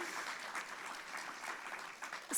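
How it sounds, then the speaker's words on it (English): Steady applause from an audience, a continuous patter of many hands clapping that holds evenly and swells slightly at the very end. "Round of applause for that"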